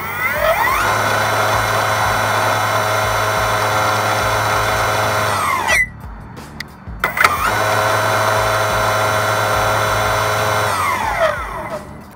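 An Enertion electric skateboard motor in unleashed mode, revved as a loud, close, high-pitched whine that ramps up, holds full throttle, cuts off briefly with a few clunks, then spins up and winds down again.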